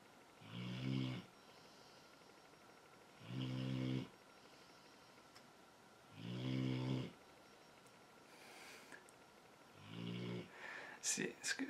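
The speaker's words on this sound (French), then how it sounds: "Arrête de ronfler." Snoring heard in four slow, evenly spaced rumbling breaths, each lasting about a second with quiet gaps between, fairly soft and close, followed by a few small rustles at the end.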